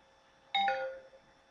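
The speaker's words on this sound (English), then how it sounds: "so I'm going to unplug it, and you're going to hear one beep." A single electronic chime sounds as a BlackBerry device is unplugged, a short two-tone ding-dong in a quiet room that fades quickly.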